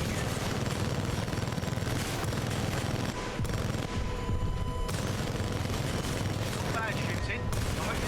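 Gunfire in the video game Titanfall 2, dense rapid shots and booms running continuously under game sound, with short gaps and some voice chatter mixed in.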